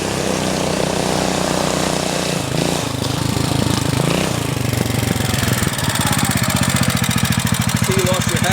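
A cheap secondhand generator's small engine runs rough with a carburetor in need of tuning, its rhythmic chugging surging and stumbling, loud and close, while people talk over it.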